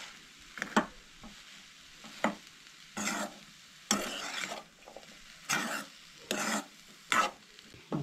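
Spiced vegetable cutlet mixture with coriander being stirred and mashed by hand in a bowl, heard as a series of close, dry scraping and rubbing bursts at an uneven rhythm, with no talking.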